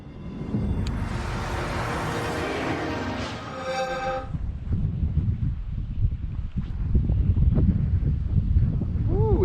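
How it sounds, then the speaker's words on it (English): Wind gusting across an open lake during a bass fishing outing, a steady broadband rush with buffeting on the microphone, and a brighter hiss in the opening seconds before it settles into a lower, rumbling roar. "Ooh, it's windy out here."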